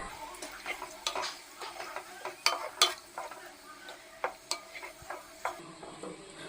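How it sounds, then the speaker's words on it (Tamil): Salt being stirred into a pot of seeraga samba chicken dum biryani, close scraping and clinking of a spoon against the pot in an irregular rhythm over a faint simmer, no talking. "உப்பு சேர்த்து நல்லா கலந்து விட்டுருவோம்"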